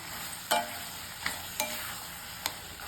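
Peas and potatoes are stirred into masala in a hot pan: a low, steady sizzle punctuated by four distinct spoon knocks against the metal, fairly close and with no voices.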